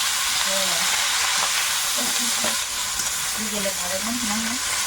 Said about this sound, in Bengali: তেলে একটু রসুন দিলাম রসুন আর লঙ্কাটা ভাজা ভাজা হয়ে গেছে এবার শাকটা দেবো